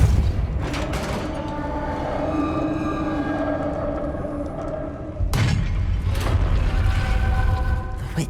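Two heavy booming thumps of a Depulso force spell cast in Hogwarts Legacy, one near the start and a sharper, louder blast about halfway, over ongoing game ambience.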